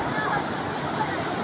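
Strong sea waves churning and rushing around a small fishing boat, a steady broadband roar of surf and spray filling the short moment, close and loud.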